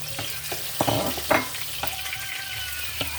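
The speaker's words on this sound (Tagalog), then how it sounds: "Atin pong papupulahin ang ating sibuyas at bawang para po masarap ang ating pagkain." Onion and garlic sautéing in a pan for pancit, a steady close sizzle broken by several scraping stirs and spatula knocks, without any voices.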